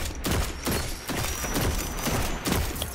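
A weapon fires repeatedly in a video game, rapid thumping bursts in a fast loud rhythm close up, with no talk.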